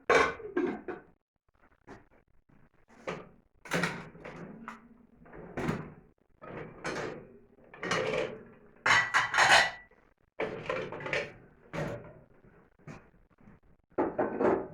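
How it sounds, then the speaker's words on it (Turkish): Repeated clattering and thudding of pots and dishes being unloaded from a dishwasher and set down, irregular bursts close by with quiet gaps between. "Şöyle bulaşık makinesinin alt bölümünü, üst bölümünü boşalttım."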